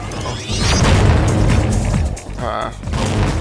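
A cannon in a video game firing a big, wide-arcing shell shot, heard as loud booming bursts and crashing impacts that run almost continuously, with a short quieter dip near the end.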